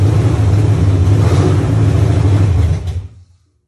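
A 1986 Monte Carlo SS engine runs loud and close just after being installed, with a steady mid-pitched rumble for about three seconds before it cuts off into silence.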